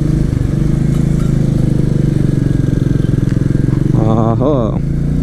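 A Royal Enfield Meteor 350 motorcycle rides at speed on the road, its engine thumping in a loud, steady drone, with a brief horn-like tonal burst near the end.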